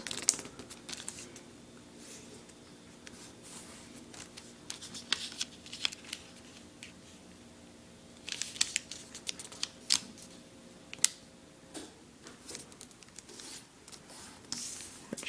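Paper is creased and folded for an origami swan, producing soft, intermittent crinkles and rustling taps close by, quiet and steady, with no voices.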